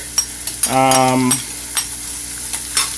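Thyme, garlic, onion and scallions hit a hot pot and sizzle briefly with a stirring scrape, followed by scattered soft clicks and crackles, close and fairly loud.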